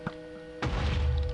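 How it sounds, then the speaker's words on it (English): An explosion in Minecraft sets off a sudden deep boom after a light click, followed by a rumbling low roar that holds steady and loud to the end. "it creates a pretty big explosion"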